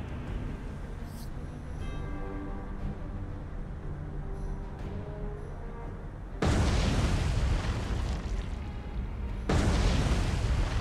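Torpedo explosions in the War on the Sea naval game land as two heavy, sudden booms after a quieter stretch, each a loud broadband blast that lingers.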